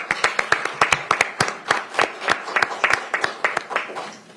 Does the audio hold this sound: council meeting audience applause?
yes